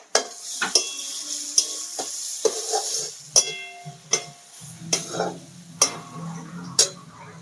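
Salted onions frying in a pan for a kartule vegetable dish, a spoon knocking and scraping the pan about once a second in sharp, regular clinks over a gentle sizzle.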